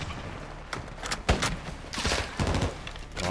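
Bursts of video game gunfire from a Modern Warfare 2 campaign firefight, with rapid shots and loud cracks in quick succession over a busy battle backdrop.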